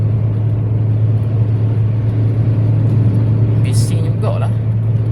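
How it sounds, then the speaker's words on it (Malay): A car engine, heard from inside after a fuel additive treatment, hums steadily at idle with a strong constant low drone. Brief faint clinks sound near the end. "Berdengung juga ni kereta ni."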